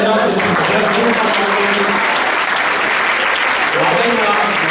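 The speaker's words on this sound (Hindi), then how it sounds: "बच्चों के लिए तालियां बजाए।" An audience claps for children at a Hindi poetry gathering. The applause is dense and continuous and fills the whole stretch at a loud, even level.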